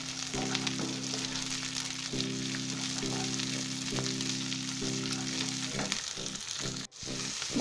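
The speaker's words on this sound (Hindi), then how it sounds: "इसमें हम मटर के दाने और एक काजू डाल देंगे। इन्हें भी आप अच्छे से 1-2 मिनट सेक लीजिए।" Onion, green peas and a cashew frying together in a pan for shahi pulao, a steady crackling sizzle with occasional light stirring scrapes, close and moderately loud, with no talk.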